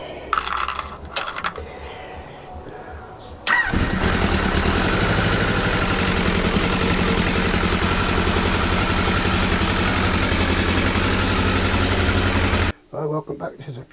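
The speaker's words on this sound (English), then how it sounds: "let's see if it still starts, and then we can get it back up to temperature" A rebuilt Kawasaki GTR1000 motorcycle engine cranks and catches, then runs at a loud, steady idle close by for about nine seconds before cutting off abruptly, with brief clicks and handling noises before and after.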